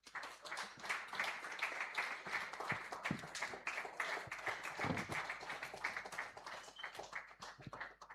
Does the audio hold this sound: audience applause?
yes